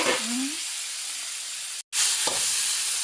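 String beans drop into a hot pan of penakbet vegetables, setting off a loud, steady sizzle and hiss that cuts out for a moment, then resumes just as strongly.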